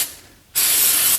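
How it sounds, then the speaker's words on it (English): A short aerosol spray of CA glue activator: a brief quiet pause, then a loud, even hiss of spray held for about half a second, close up. "I'm just going to spray some of this activator right along this line where I'm going to put it"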